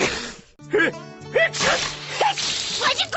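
Several sneezes burst out in a short comedic scene, sharp and close, with voiced vocal sounds between them and quick exhalations.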